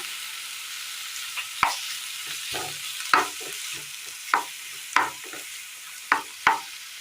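Chopped, peeled tomatoes cooking in a pan give a soft, low sizzle, cut by about seven sharp spoon or spatula knocks against the pan at uneven intervals, with no speech.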